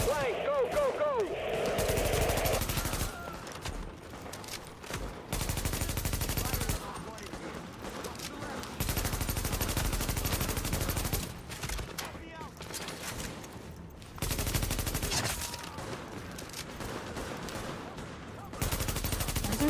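Pistol gunfire in a firefight in the video game Tom Clancy's The Division: loud, dense volleys of shots almost throughout, broken by a few short lulls, with voices mixed in at times.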